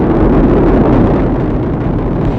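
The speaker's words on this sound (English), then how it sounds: "All 4 RS-25 engines on the core stage and 2 solid rocket boosters now propelling the vehicle" The Artemis SLS rocket climbs away at launch on four RS-25 core-stage engines and two solid rocket boosters. A very loud, broad, rumbling roar holds steady from start to end.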